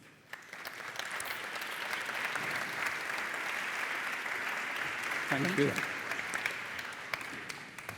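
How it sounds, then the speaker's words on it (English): Audience applause for a speaker at a manufacturing summit in Porto, a steady wash of many hands clapping that carries on for several seconds, with a brief spoken thanks partway through. "Your applause, please."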